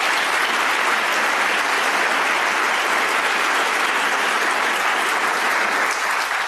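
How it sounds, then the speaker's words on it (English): Audience applause at a city public schools event, a dense continuous roar of many hands clapping at steady high volume from start to finish. "let's give them a round of applause"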